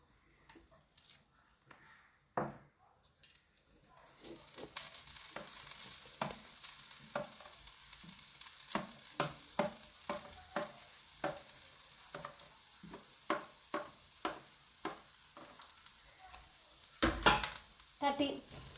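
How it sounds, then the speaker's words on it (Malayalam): Grated coconut frying in ghee in a pan on the stove while cooking Kerala wheat-flour ilayada, a steady sizzle with repeated stirring scrapes and clinks of a spoon throughout, close and moderately loud. "ഒരു പാൻ അടുപ്പിൽ വെച്ചിട്ടുണ്ട്. അതിലേക്ക് കുറച്ച് നെയ്യ് ഒഴിച്ച് കൊടുക്കുകയാണ്."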